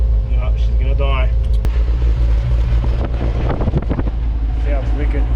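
A Toyota 7K turbo engine idling roughly on its first start, a loud steady low rumble close to the microphone with some wind buffeting, while people talk over it.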